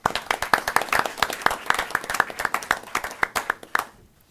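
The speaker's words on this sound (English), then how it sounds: "Please join me in a round of applause" A small group at a board of education meeting claps, a close, crisp run of sharp hand claps in an uneven rhythm that stops abruptly near the end.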